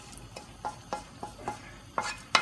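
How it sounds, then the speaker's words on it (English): Sauce is stirred into cooked medium-rare beef in a pan, a spoon scraping and tapping the metal in irregular strokes over a soft, steady sizzle, moderately close and alone. "Now we're going to add the sauce to the beef."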